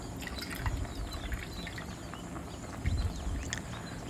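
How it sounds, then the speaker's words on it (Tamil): Dal for orithal thamarai sambar bubbles in a pot, with soft irregular blips, pops and liquid gurgles over a low steady rumble, close and moderately quiet, swelling a little twice. "இப்போ பாருங்கள், பருப்பு நல்லா கொதித்து வந்துடுச்சு."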